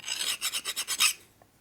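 A hand file rasps across a metal part from a 1972 Harley-Davidson 1000cc Ironhead Sportster during deburring, about seven quick close strokes in a steady rhythm before stopping.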